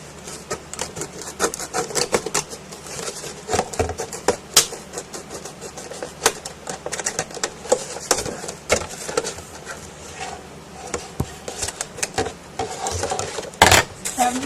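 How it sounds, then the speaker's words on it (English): Scissors cut through a plastic milk jug to take off its bottom, giving close, uneven crackling snips and rubbing scrapes of thin plastic with occasional sharper clicks. "Scissors work better."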